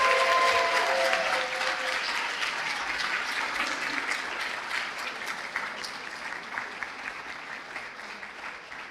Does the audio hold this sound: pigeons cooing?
no